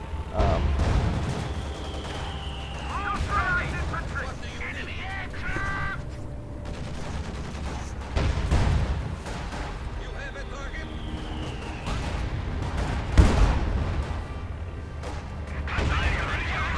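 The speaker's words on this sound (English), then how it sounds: "That Ferdinand's getting beat up by these guns." Heavy gunfire and explosive impacts pound a Ferdinand tank destroyer during a Company of Heroes 2 2v2 battle, with booming hits recurring every few seconds under steady battlefield noise while a voice talks over the action.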